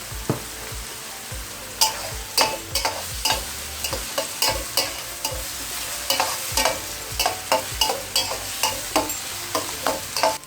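Onions sautéing in a pan for bread masala, with a continuous sizzle under a rhythmic series of close spoon scrapes that grow steadier toward the end.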